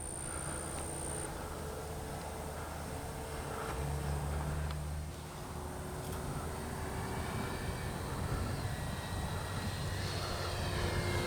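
A Freewing Red Hawk T1 70mm electric ducted-fan RC jet makes a low pass with gear and landing flaps down, its steady whine and rushing roar holding loud and continuous throughout, swelling slightly mid-pass.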